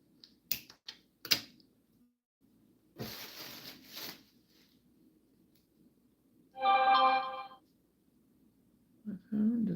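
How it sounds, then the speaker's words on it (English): A phone ringtone sounds once as a short, bright, tonal burst in a quiet room, set among scattered clicks, taps and handling noises. "My phone just keeps going off and off."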